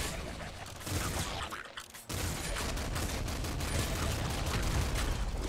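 Rapid bursts of gunfire from the super splinter gun in the video game Nuclear Throne, loud and continuous with a brief gap partway through, no talking.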